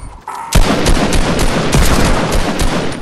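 Rapid gunfire in a battle royale video game, including a sniper, opens with a sharp loud shot after a brief quiet lead-in, then continues as a dense, sustained burst of close shots.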